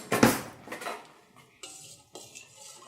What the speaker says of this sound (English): Now we want to take a spoon and stir it up.